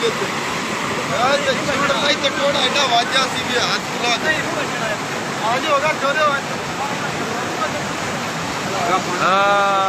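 Floodwater of the Sutlej river rushes after a dam break, a loud continuous broadband roar that never lets up, while voices talk over it throughout.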